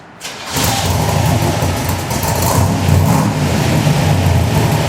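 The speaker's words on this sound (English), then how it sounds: "Now, Richie, fire this car up and take it up the street, will you?" A restored 1965 Corvette Sting Ray with a 327 V8, solid lifters, big camshaft and high compression, cranks briefly, catches and settles into a loud, lumpy, rumbling idle up close.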